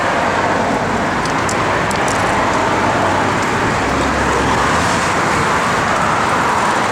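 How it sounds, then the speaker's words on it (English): A 1965 Chevrolet Impala SS convertible with its original 327 V8 idles through new Flowmaster dual exhaust, a steady, loud, broadband rumble that continues unbroken and close for the whole stretch with no talking. "I just put brand new Flowmaster dual exhaust on it."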